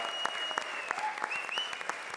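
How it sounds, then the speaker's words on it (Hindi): Studio audience applause, a steady dense clapping that fills the clip alone and fairly loud, with no talk over it. "जोरदार तालियां"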